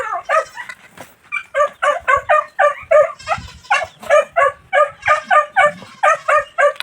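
A dog barks on a rural farm with goats in a rapid, steady series of sharp, close yips, about fifteen in quick succession, loud and continuous throughout.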